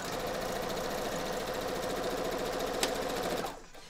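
A sewing machine stitching fabric runs with a fast, steady mechanical whir and needle clatter, then winds down and stops at the end.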